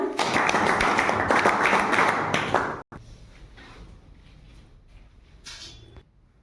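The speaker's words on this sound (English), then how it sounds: "Clap for विजेता" An audience at a computer centre claps for a student presenter, a loud dense round of clapping for under three seconds that cuts off abruptly, followed by quiet room noise and faint voices.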